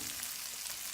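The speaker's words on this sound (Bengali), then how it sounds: "মশলাটা আমি 1 মিনিটের জন্য একটু কষে নেব।" Spice paste with turmeric and coriander powder frying in a pan for mushroom butter masala, a soft steady hiss ending in a brief sharp clink.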